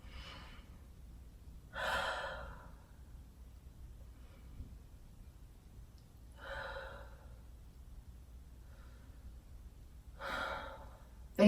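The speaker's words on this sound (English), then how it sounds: "I'll send you off with 3 deep breaths." Three slow, deep breaths in a quiet room, each a soft airy inhale and exhale spaced a few seconds apart, close and alone with no talking.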